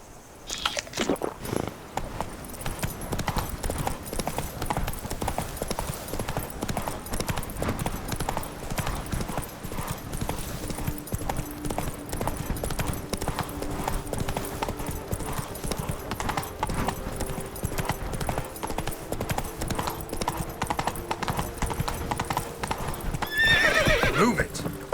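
In The Witcher 3: Blood and Wine, a horse's hooves clip-clop in a steady, rapid rhythm, with tack jangling and a loud neigh near the end; brief voices come through.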